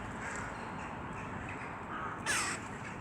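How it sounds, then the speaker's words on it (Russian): Crows cawing outdoors on a sunny day in a snowy park, with one loud, close caw standing out near the end over steady background noise. "Тут и вороны, и голуби"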